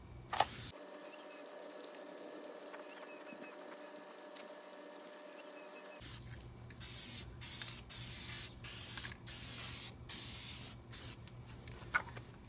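Spray gun laying a light coat of paint onto a diesel truck body, heard as a steady close hiss for several seconds, then a run of short repeated spray bursts with brief gaps.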